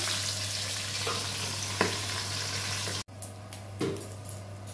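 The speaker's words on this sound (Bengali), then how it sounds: "মাছের মাথাটা ভাজছি" A fish head frying in oil in a wok, a steady close sizzle throughout with a few stirring clatters, briefly cut off before the frying resumes.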